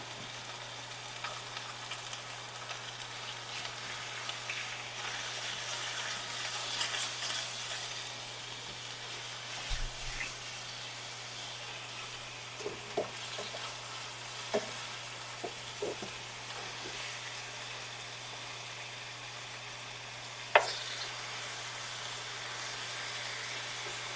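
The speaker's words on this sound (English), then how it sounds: "I'm just gonna let them brown, and then I'll flip them over." Food sizzles and fries steadily in hot oil in a pan as it browns, a continuous soft crackle with a few faint clinks and knocks scattered through, and no talking.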